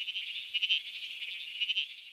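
A tiny bleating froglet calls with a steady, buzzy, insect-like trill that sounds somewhat like a sheep, pulsing slightly for about two seconds; the call is clear and close, with no voices.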